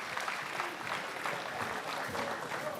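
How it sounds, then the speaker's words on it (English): An audience applauds for a university athletic director at an event, a steady wash of clapping that runs throughout at moderate loudness, with no voices over it. "Can I get a round of applause?"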